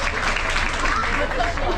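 A burst of audience applause at a stage show aboard the cruise ship Carnival Vista, steady and full, many hands clapping together throughout the short stretch.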